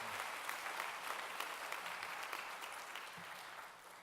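Sustained applause from a church congregation during a live-streamed worship service, a dense even wash of many clapping hands that holds steady for several seconds and then begins to thin slightly.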